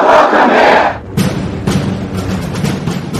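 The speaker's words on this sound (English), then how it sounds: "The streets were lined mostly with people protesting his visit." A loud crowd of people protesting Trump's state visit roars and shouts in a dense wash of voices, breaking off briefly before a rumbling, cheering mass of protesters resumes.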